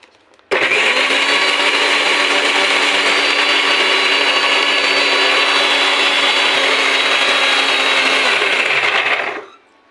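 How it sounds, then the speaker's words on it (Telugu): A mixer grinder whirs into action on soaked sago pearls and water, a loud, steady high-pitched motor drone running unbroken for about nine seconds before cutting off abruptly. "నేను వాటర్ వేసి దీన్ని మిక్సీ పట్టుకుందాం."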